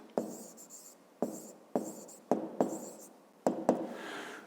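A pen writes by hand on paper during a fifth-grade math exercise, giving close, quiet scratchy strokes in short bursts with brief pauses between them, and no talking.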